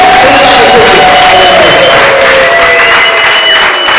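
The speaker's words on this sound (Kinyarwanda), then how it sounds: "Urakoze mwami, tugukomera amashyi n'umugisha" A church congregation applauds loudly and continuously, dense clapping mixed with cheering and raised voices filling the room throughout.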